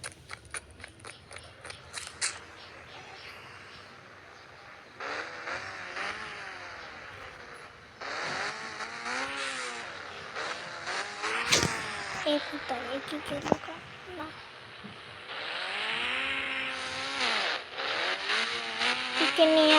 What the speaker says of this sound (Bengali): এই মাঠে কিছুক্ষণ বাইক চালাই।